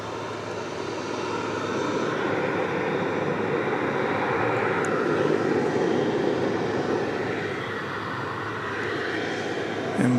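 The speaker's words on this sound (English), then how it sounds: "Flight 765 UPS is taking off, will be taking off very shortly to Louisville" A UPS cargo jet departing DFW Airport at night for Louisville, its engines a steady, moderately distant broadband roar that holds evenly for the full stretch with no voices.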